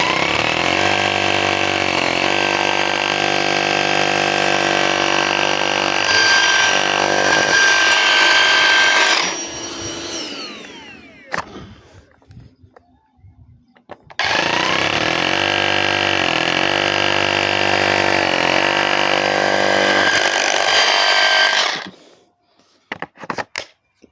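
A Bosch GBH18V28CF cordless rotary hammer drills loudly in two long, steady bursts, the first for about nine seconds without dust extraction and the second with the GDE18-16 extractor attached, separated by a quieter pause with faint handling noise.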